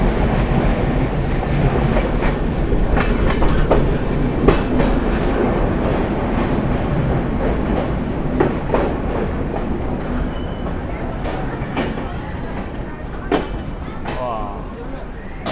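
Sagardari Express intercity train pulling into Darshana Halt station, a steady rumble with rhythmic clickety-clack of wheels over rail joints, close and continuous, with occasional squeals and a voice speaking over it.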